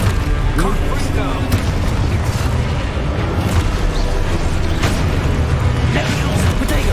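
Confringo fire spells blast in the wizarding game Hogwarts Legacy, a series of loud, close booms and crackling bursts packed over dense game sound.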